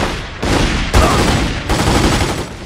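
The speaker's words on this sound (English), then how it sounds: "Let's use our upgraded SMG we got out of that compound." An upgraded SMG in The Godfather 2 on PC fires loud, rapid bursts of video-game gunfire, with three dense volleys running back to back.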